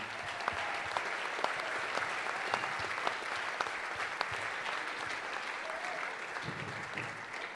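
Sustained audience applause at a Folk Alliance event: dense, steady clapping from a crowd, fairly distant and even in level throughout, with no talking over it.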